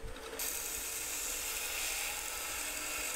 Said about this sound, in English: it was over to the belt sander, more profiling.